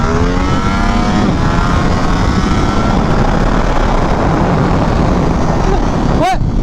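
A Ducati Streetfighter V4S motorcycle pulls hard under acceleration, its engine a loud, steady roar mixed with heavy wind rush close to the rider, ending with a brief rising whine.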